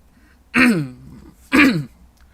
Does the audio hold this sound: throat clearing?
yes